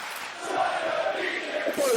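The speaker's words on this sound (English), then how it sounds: "the crowd chanting, China beat you" A wrestling arena crowd chants in a distant, muffled wash of massed voices, steady and moderately loud for a couple of seconds, with a commentator's voice faintly over it.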